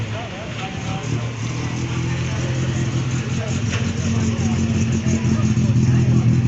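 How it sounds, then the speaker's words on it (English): A Porsche Carrera followed by a Hillman Super Minx drive past outside the Dovecote Inn, a steady car engine drone building slowly in loudness, with a person talking over it. "Got the Porsche Carrera going there, and that's followed by the Hillman Super Minx."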